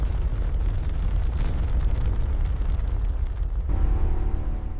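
Asteroid and meteorite impacts pound a young, molten lava Earth as a deep, continuous rumbling roar with dense bursts, and heavier booms enter near the end.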